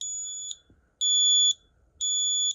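Gas and carbon monoxide detector sounding its alarm after sensing gas from an old lighter: three evenly spaced, shrill electronic beeps, each about half a second long with short gaps, loud and close.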